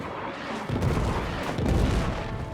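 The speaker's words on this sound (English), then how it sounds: "Man, this artillery is insane." Heavy artillery pounds across a WWI trench battlefield in a strategy game, a dense rumbling barrage of booms that swells sharply and stays loud and continuous.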